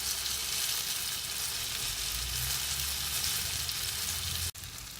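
Banana turon frying in hot oil as its sugar caramelizes, a steady close hiss and sizzle that runs throughout and briefly cuts out near the end.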